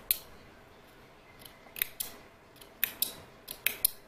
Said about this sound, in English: I'm only clipping that very top fold that's within that seam allowance